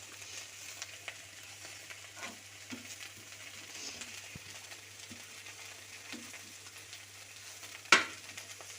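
Oil frying in a pan while stirring, a soft, steady sizzle with light scraping and stirring taps, close and quiet, ending with a sharp clink near the end.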